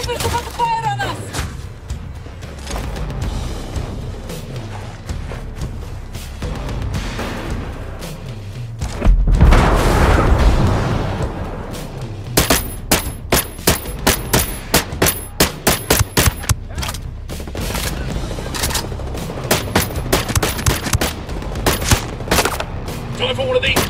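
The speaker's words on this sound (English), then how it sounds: "Snipers about to fire on us!" Gunfire in the tactical shooter Ghost Recon Breakpoint: a heavy blast near the middle, then rapid sharp shots in clustered volleys amid constant battle noise and radio-style voices.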